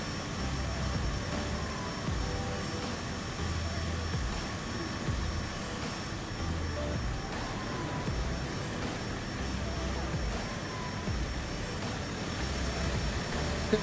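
A Cessna Caravan turboprop engine in a Microsoft Flight Simulator bush flight in Alaska runs at a steady drone with a faint high whine and an uneven low rumble beneath, with no voices over it.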